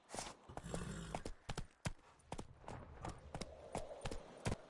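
Roach the horse galloping in The Witcher 3, a steady rapid clip-clop of hooves close by with occasional louder hoof strikes, alone without talk.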